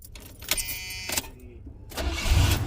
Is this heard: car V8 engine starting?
yes